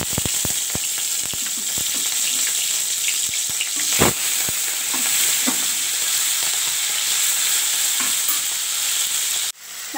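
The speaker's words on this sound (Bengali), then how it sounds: "তেলটা গরম হয়ে গেছে, এবার প্রনগুলো আমি দিয়ে দেব।" Prawns sizzle loudly in hot oil, a dense steady hiss with scattered sharp pops and crackles throughout, cutting out abruptly just before the end.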